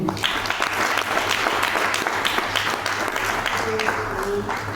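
Steady applause from a crowd, a dense patter of clapping that holds evenly throughout without fading, over a faint low hum.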